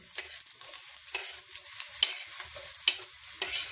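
Half an onion frying in a small amount of melted ghee for moong dal, a soft, close sizzle broken by a few sharp scrapes of a spoon stirring the pan at irregular intervals, no talking.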